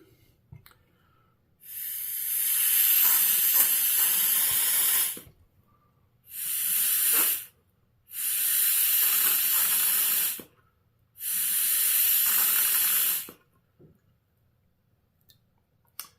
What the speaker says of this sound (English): That is a Venturi spraying fuel, which is water right now.